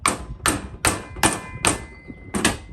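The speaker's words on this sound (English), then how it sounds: "I'm just going to tap this in with my plastic mallet." A plastic mallet taps a bushing into the lower control arm of a Toyota Sequoia, six or seven sharp knocks at an even, steady pace, close and fairly loud.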